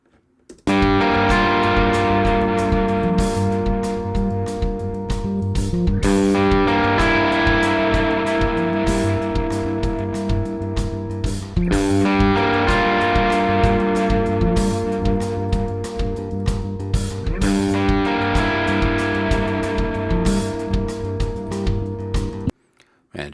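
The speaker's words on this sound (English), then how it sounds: "Let's hear that just with drums, bass, and that guitar." A song plays back from raw multitracks with pounding drums, bass and a heavily distorted AC30 guitar, dense and loud throughout before cutting off near the end.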